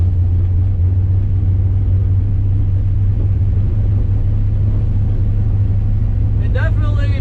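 A naturally aspirated big block 1969 Camaro on a quarter-mile pass, heard as a loud, steady low rumble from inside the car, with a brief voice near the end.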